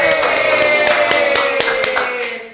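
Hand clapping during an indoor podcast chat, a burst of quick, uneven claps from a few people close to the microphone, fading out toward the end with no talk over it.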